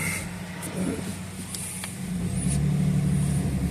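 Engine of a 2008 Jeep Liberty running steadily while driving, a low hum that swells a little as it picks up speed, heard from inside the cabin.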